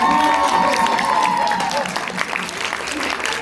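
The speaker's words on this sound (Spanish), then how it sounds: "Un aplauso para Fernanda. Un aplauso." An audience at a community Christmas story contest claps warmly for a child, a steady patter of many hands with some cheering, while a voice carries over the applause.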